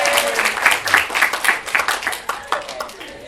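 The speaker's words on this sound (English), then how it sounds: "Give applause to your friend" A class of students applauds a classmate in a schoolroom, brisk close hand claps in a dense irregular burst that fades toward the end.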